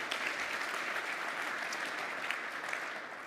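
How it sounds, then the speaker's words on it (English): Audience applause for conference speakers at the close of a tech industry session, a steady, full round of clapping from a large crowd that holds evenly for several seconds without talk. "How about a big round of applause for Varma and Dr."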